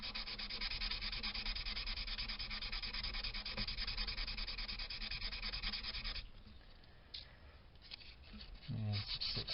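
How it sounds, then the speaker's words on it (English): 400 grit sandpaper is rubbed back and forth on a wooden guitar neck shim in a rapid, steady, close scratching rhythm that stops after about six seconds, followed by quieter handling noises. "Try some 400 grit first on this side."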